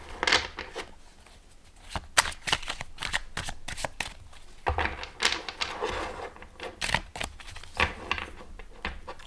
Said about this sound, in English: Let's see if I can riffle shuffle this, because it is quite small